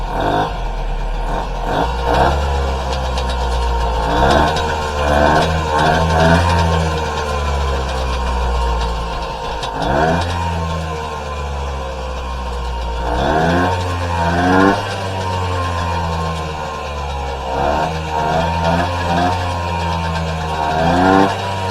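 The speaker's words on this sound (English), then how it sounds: "let's just see if she starts right back up" A 1970s moped engine sputters to life and revs repeatedly in short bursts, a buzzy small two-stroke note rising and falling close by with no talking.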